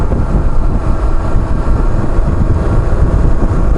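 BMW R1150GS motorcycle engine running loud and close, a dense, rumbling low throb that stays fairly even throughout, with no talking.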